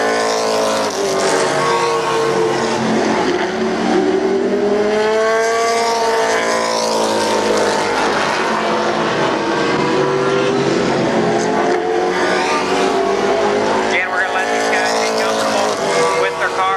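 Race cars roar around the oval at Columbus Motor Speedway during the 1996 Race of Champions, loud engine whines rising and falling as they pass, with commentators talking over them.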